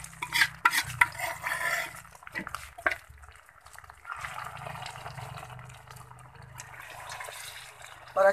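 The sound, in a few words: stirring saag (mustard greens) in a cooking pot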